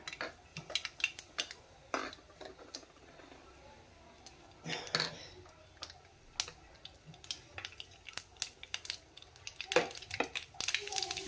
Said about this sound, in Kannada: ಎಣ್ಣೆ ಬಿಸಿಯಾಗಿದೆ ನೋಡಿ ಇವಾಗ ಸಾಸಿವೆ ಹಾಕ್ಕೊಂತಿದ್ದೀನಿ